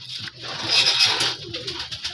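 Local desi pigeons at a pigeon farm, soft close cooing with a few low, repeated coos and no talk.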